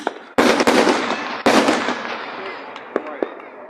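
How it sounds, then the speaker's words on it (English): A loud mortar firework bursts at a 4th of July celebration, two sharp booming blasts with crackling and a long fading rumble, heard outdoors at close range. "That sounded like a fucking mortar blast"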